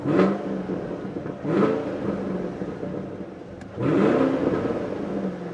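Chevrolet Camaro SS 1LE V8 with a six-speed Tremec manual, its engine surging in three loud close revs that rise and settle between pulls, a deep rumbling roar with no voices over it.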